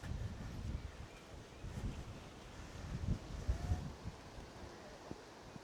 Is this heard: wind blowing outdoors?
yes